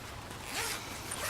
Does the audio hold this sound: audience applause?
no